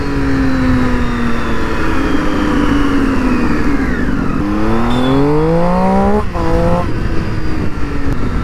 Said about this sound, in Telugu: sounds ugly bro, stock exhaust కదా, కొంచెం సెటిల్ అవ్వడానికి టైం వస్తుంది అనమాట